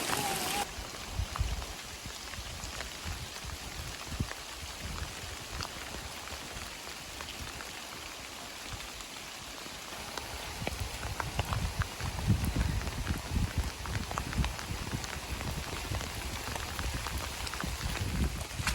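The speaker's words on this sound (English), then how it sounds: "But we'll just see how the rain is." Steady rain falls on a camp in the Ouachita mountains, a dense continuous patter on surfaces with heavier gusts of drops building toward the end, no talking.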